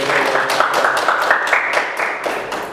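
University students in a teaching-practice classroom clap their hands together, a loud, close, continuous round of clapping that fills the room.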